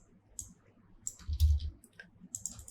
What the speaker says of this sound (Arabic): بأن نضغط في الماوس رايت كليك ونختار rename